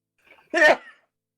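A single sharp sneeze, close and fairly loud, preceded by a brief quiet inhale, then silence.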